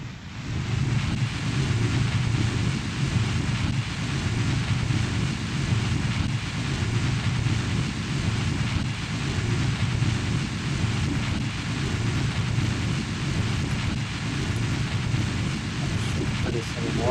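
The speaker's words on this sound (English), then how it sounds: "Fire the next engines." Rocket engines fire in the Kerbal Space Program video game, making a steady, dense roaring rumble that holds evenly from start to finish with no breaks.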